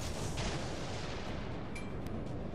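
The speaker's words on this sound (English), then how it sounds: "All stations, concentrate fire on the target." Naval artillery firing at an enemy warship in World of Warships: Legends, a dense, continuous roar of booming gunfire and rumbling blasts that stays loud throughout, with no talk.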